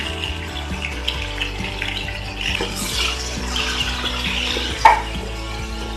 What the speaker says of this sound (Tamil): இந்த வெங்காயம், பச்சை மிளகாய், தக்காளி பழம், கருவேப்பிலை 4ஐயும் போட்டுடலாம்